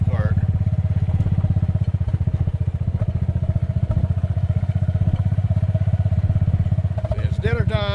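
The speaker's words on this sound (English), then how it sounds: "They know the noise of the golf cart." A farm golf cart driving, its motor giving a steady, loud, close rumble with a fast, even putter that holds throughout, with a little clatter and rattle on top.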